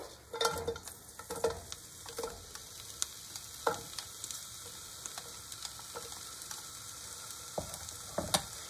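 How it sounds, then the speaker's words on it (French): Fresh-picked thyme and onions sizzle in fat in a frying pan, a soft continuous crackle with scattered sharp pops and occasional scraping clicks, close but fairly quiet, with no voices. "Dans une poêle avec de la matière grasse, je vais mettre le thym, fraîchement cueilli,"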